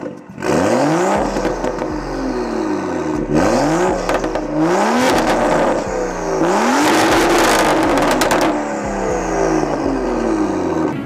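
BMW M2 F87 widebody tuned to 500 horsepower, its engine revved repeatedly in loud rising sweeps with sharp cut-offs and crackling pops between pulls, close and aggressive for about eleven seconds.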